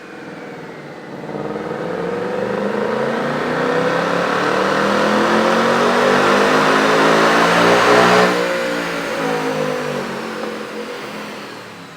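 A 2024 Ford Mustang GT with its 5.0L V8 runs up through the revs on a chassis dyno, a loud, steady climbing engine roar that builds for several seconds, peaks near the end, then drops off as the throttle closes.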